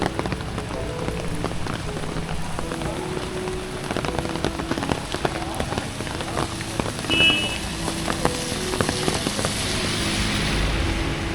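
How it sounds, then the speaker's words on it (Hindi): Steady rain falls in Darjeeling, a dense, even patter with crisp individual drops, heard alone with no voices for the full stretch. "दार्जिलिंग में बारिश हो रही है।"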